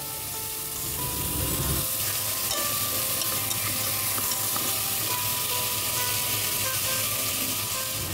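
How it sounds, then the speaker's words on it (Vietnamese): Pineapple and tomato are stir-fried in a pan for a giant river prawn hotpot, giving a steady, close, loud sizzle with faint scraping throughout. "Bây giờ bắt đầu mình cho khóm và cà chua vào mình xào nha."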